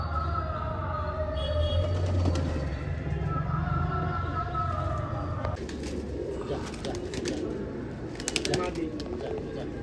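Madrasi pigeons in a loft coo softly and steadily, a low murmuring bed of calls close by, with someone talking over them throughout.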